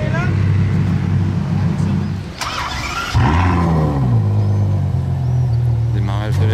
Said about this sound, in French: Démarrage de la F12